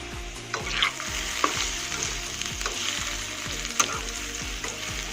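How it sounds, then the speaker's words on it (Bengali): Steady sizzle of potatoes frying in a pan, with repeated metallic stirring scrapes and clinks over the hiss; no talking. "আজকে আলু ভাজা আমি আগে করে নিচ্ছি"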